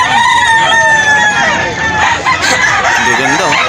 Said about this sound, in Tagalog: Maganda na mga manok ni kuya oh